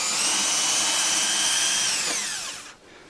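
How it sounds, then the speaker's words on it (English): A power drill whines loud and steady as it bores into the wooden body of a custom bass guitar for a ground wire, then winds down and stops near the end. "we're now going to drill from the behind into this control thing as well"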